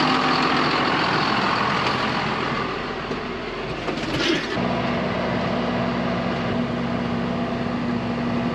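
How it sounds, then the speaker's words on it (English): A tractor drives on an Australian farm, its engine giving a loud, steady rumbling drone with a constant hum throughout and no voices. "I'll take the tractor back home"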